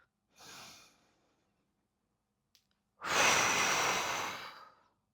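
Two audible breaths during a pilates exercise: a short soft inhale, then after a pause a long, forceful exhale through the mouth lasting about two seconds, close to the listener, with no talking.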